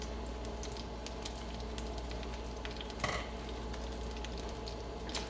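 Shrimp sizzle in garlic butter in a hot pan, a steady dense crackle and hiss with a brief scrape of stirring midway, close and even, no voices.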